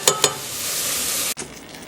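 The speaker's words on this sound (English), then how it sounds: "Fresh crushed garlic, and the onions are sauteing." Fresh crushed garlic and onions saute in a pan for chiles rellenos, a steady hissing sizzle with a couple of sharp clinks at the start and a sudden drop in level near the end.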